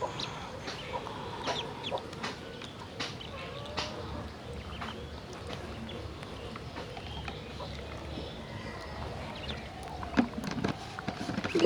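Young native ducklings, three to four days old, peep while eating mixed feed and bran soaked in water, with a busy stream of small chirps and pecking clicks close by.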